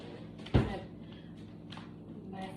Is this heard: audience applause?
no